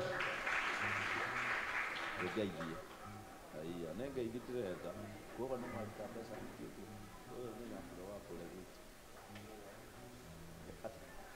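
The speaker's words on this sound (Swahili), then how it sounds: "Pastor Mogo, apigiwe makofi ya rubiri hapo." A church congregation applauds in a short burst of clapping at the start, then a voice speaks or chants loudly over fading background noise.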